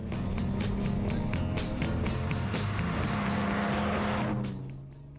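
A classic MGC GT Sebring racer with Weber carburetors drives by loudly, its engine a steady throaty roar with a low droning hum that holds strong throughout and fades slightly at the end, with no talking.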